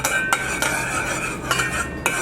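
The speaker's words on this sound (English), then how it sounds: "And we are just going to stir that all" Spoon stirring hot sauce and minced garlic in a bowl, several sharp clinks and scrapes against the bowl over a faint background hum, close and moderately loud, no talking.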